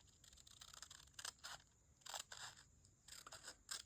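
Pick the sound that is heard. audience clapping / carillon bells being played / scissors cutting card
scissors cutting card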